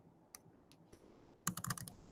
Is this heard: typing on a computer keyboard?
yes